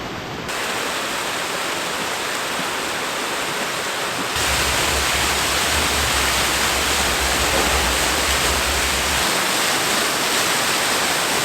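Yangpokpo waterfall in Cheonbuldong Valley on Seoraksan, a loud, steady, broadband roar of rushing water that swells slightly partway through and holds without pause.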